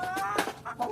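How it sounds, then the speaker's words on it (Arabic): A rooster kept among ornamental poultry clucks in a few short, close, voiced bursts spread across under a second, with no talk over it. "ده الديك التاني يا جماعه"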